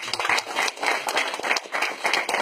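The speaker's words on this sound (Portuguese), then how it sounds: "Você pode dar uma salva de palmas para Jesus." A church congregation claps together in a steady, dense burst of applause, fairly close and sustained for a couple of seconds, with no one speaking over it.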